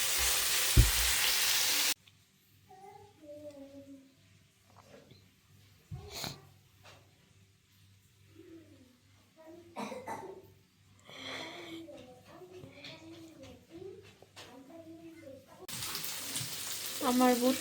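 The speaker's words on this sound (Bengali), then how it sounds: "আমার বুটটা হয়ে গেছে, সুন্দর ভাজা ভাজা হয়েছে" Chickpeas frying in a pan give short bursts of loud, close hissing sizzle at the start and again at the end, separated by a long quiet stretch with faint sounds.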